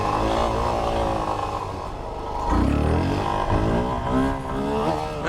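Suzuki DRZ400S dual sport motorcycle engine pulling steadily while riding, a continuous mid-pitched drone that rises in pitch as the bike accelerates, with some wind rush throughout.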